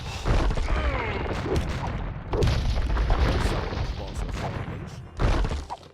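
Organ Gun volleys in Age of Empires II boom repeatedly over a dense battle din, heavy thudding blasts recurring every couple of seconds amid clashing noise and a talking voice.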